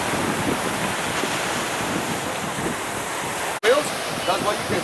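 Ocean waves break along the rocky southern shore of Espanola Island in the Galápagos, making a sustained roar of surf mixed with heavy wind on the microphone and a brief dropout near the end.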